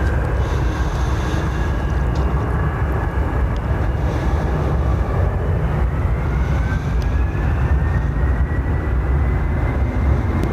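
A United airliner at Dublin Airport sends a steady, loud broadband roar of jet engines with a slowly rising whine, continuous and close throughout, with no talking.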